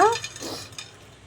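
Prawn shells frying and being stirred in a kadai, a soft sizzle with scraping stir strokes, fairly close, briefly under a voice at the start.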